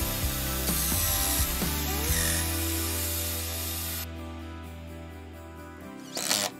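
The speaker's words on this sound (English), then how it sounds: "So here I'm screwing in a couple pieces of 3/4 inch plywood" A power drill drives screws into 3/4 inch plywood, with a loud sustained motor whine that shifts in pitch, drops off, and ends in a brief final burst.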